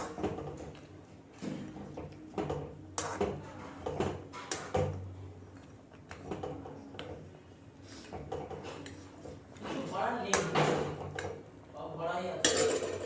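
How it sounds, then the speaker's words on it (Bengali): A metal lid clanks onto a cooking pot of chicken black pepper curry after a splash of kewra water, amid several sharp clinks and rattles of pots and utensils close by in a home kitchen. "এবারে ঢাকাটা বন্ধ করে দিচ্ছি"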